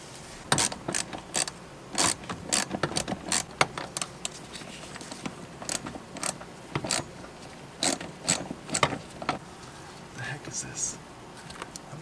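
Ratchet with a 10 mm socket on a small swivel adapter backing out four bolts during an A/C restoration on a Toyota AE86, giving repeated sharp clicking bursts close to the mic, with brief talk between.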